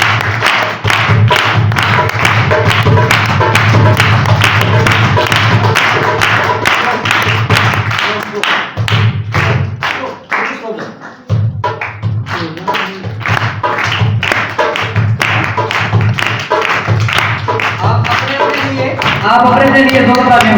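Church congregation clapping along in rhythm with a song, rapid regular claps over loud music and singing throughout, with a brief dip midway before the steady clapping resumes.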